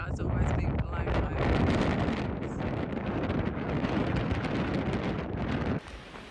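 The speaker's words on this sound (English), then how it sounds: "So windy, I was almost being blown over." Strong wind gusting across a hilltop near Lake Tekapo, a loud broadband roar buffeting the microphone almost without pause before dropping off abruptly near the end.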